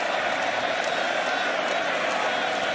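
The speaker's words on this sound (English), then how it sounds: "Listen to the crowd here in Montreal." Crowd noise fills a CFL football stadium in Montreal during an Alouettes game against the Toronto Argonauts, a steady, dense roar of cheering voices that holds evenly throughout without breaks.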